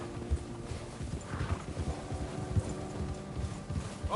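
Horse hooves beating in Red Dead Redemption 2, a rapid rhythmic clip-clop of galloping that runs throughout at close range, with no speech over it.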